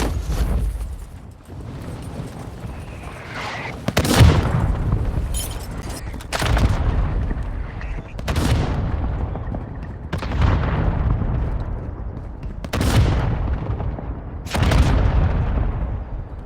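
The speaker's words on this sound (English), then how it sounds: "Hostile mortar strike incoming." Mortar strike explosions in the video game Warzone Mobile: a series of about six heavy booming blasts landing every two seconds or so, each with a long rumbling decay over continuous low battlefield noise.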